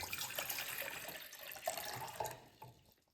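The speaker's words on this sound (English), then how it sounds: "let me just put the water into here" Water poured from a vessel into a camping pot, a close, faint splashing stream that tapers off and stops near the end.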